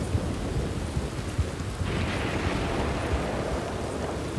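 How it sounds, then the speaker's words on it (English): A thunderstorm in the Red Dead Redemption video game at night gives a steady, dense roar of rain with a low rumble of thunder underneath, swelling slightly partway through, with no voices. "We're running to the storm"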